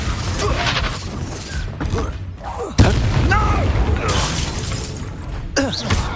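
Fire spell effects from the video game Hogwarts Legacy: a sudden booming burst with crackling, shattering debris, then mechanical whooshes and clatters layered through a continuous noisy game soundscape.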